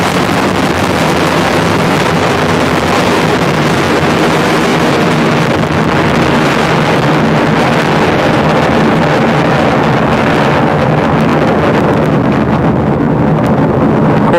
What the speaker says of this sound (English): Core booster is now throttling down to the partial thrust level.